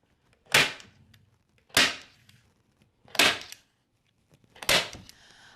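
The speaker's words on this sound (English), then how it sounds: "we're just gonna staple" A staple gun fires four sharp, loud snaps at a steady pace a bit over a second apart, with quiet pauses between them, during a farmhouse decor project.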